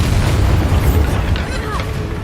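A booming Bombarda spell explosion in Hogwarts Legacy, a loud, dense rumbling blast with scattered crackles and game sound effects filling the moment.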